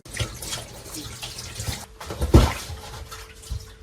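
Taro leaves are rinsed under a running tap, with water splashing and gushing close by and a louder burst of flow midway, no voices.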